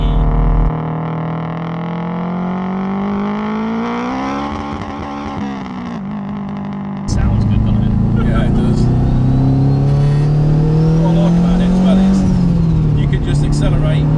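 Turbocharged K20-engined Mitsubishi Colt making roughly 430 bhp, heard from inside as the engine drones and then revs up loudly under acceleration, with people talking over it.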